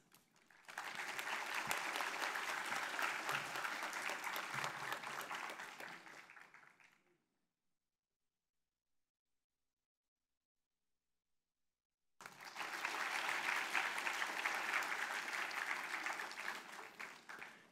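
A symposium audience on the rule of law applauds Mary Robinson and her husband with sustained, even clapping. It stops abruptly into silence, then resumes just as full for several more seconds.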